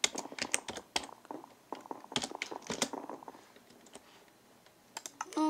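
A password is tapped out on a computer keyboard in quick irregular bursts of close, crisp key clicks separated by short pauses.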